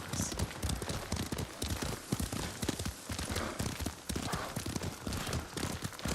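A horse's hooves clip-clop steadily while it is ridden in Ghost of Tsushima. The hoofbeats are close and rhythmic, with irregular thuds layered over a busy in-game background.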